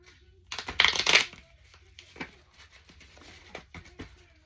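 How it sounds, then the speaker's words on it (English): A quick riffling card shuffle near the start, followed by soft handling noises and light shuffling sounds, fairly close and quiet. "Let's shuffle the cards again and see what we get this time."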